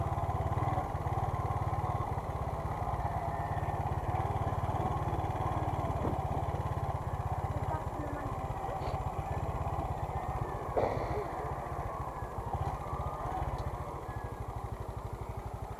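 Motorcycle engine idling with a low steady throb and light mechanical clatter, continuous for the whole stretch at moderate distance.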